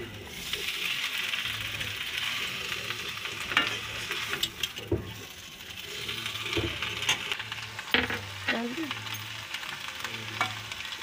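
Potatoes fry in a pan while being stirred, with homemade chili, black pepper and cumin powder mixed in: a steady close sizzle broken by repeated scraping and clattering strokes of a spoon.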